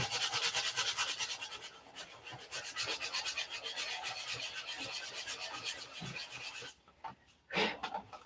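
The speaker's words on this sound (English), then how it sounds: "Sanding is a very hard thing to teach on camera." Wood edges sanded by hand, a steady back-and-forth rasping in close, even strokes that continue for most of the stretch before a brief pause and a couple of final rubs.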